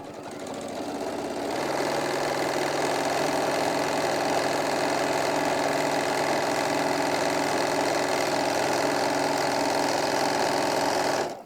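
A sewing machine stitching straight across fabric for a bag seam, starting after a brief pause and then running as a continuous close mechanical whir at an even pace until it stops at the end.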